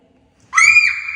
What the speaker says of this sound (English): If anyone wants to yell out echo and hear the echo.